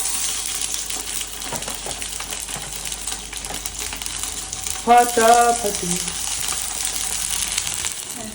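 Frozen Prasuma momos pan-frying in a hot pan, a steady broadband sizzle running throughout with a brief louder crackle and clatter near the middle as the dumplings go in.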